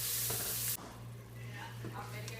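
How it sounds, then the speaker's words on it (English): Onions and vegetables for chicken and sausage gumbo fry in a pot, a faint steady sizzle with soft scraping stirs, after a brief louder hiss at the start. "Give it a good stir and just keep stirring until the onions have turned kind of translucent and they've started to brown a little bit"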